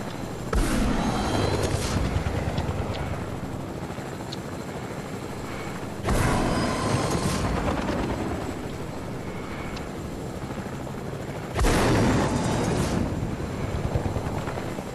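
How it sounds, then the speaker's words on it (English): In the Fortnite video game, a helicopter flies overhead with a constant whirring rotor drone, and a louder rushing swell returns about every six seconds, nearby and fairly loud, with no voices. "Chopper up in the air."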